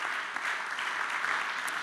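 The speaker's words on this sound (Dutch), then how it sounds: "Dames en heren, met groot applaus." Brief burst of audience applause at an award ceremony, steady and moderately soft, a dense patter of many hands clapping together.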